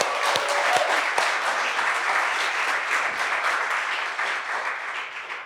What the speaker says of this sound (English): Another round of applause for that.